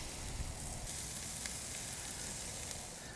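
Hickory smoked bacon sizzling on a grill over indirect heat, a constant even crackle, close and moderately loud, with no voices.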